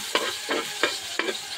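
Garlic sautéing in a pan for dinuguan, with four sharp stir-and-sizzle bursts at an even pace, close and fairly quiet, and no voices.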